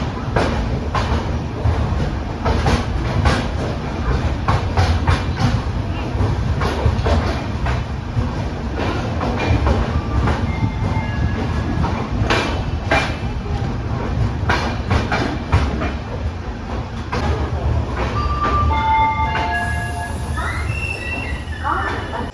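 Shirdi Mysuru Express train rolling along with a steady low rumble and rattle of carriages, some faint squeals toward the end, and a voice talking over the continuous noise.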